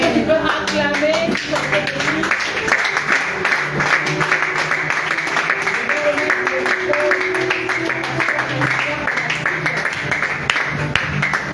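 A church congregation claps and cheers together, loud and sustained throughout, with a voice talking over the applause.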